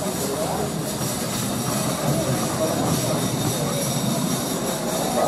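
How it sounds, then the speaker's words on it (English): A private jet takes off at Milan Linate airport, its steady broadband engine roar sounding loud and continuous throughout. "Oh, and there's a private jet to take off."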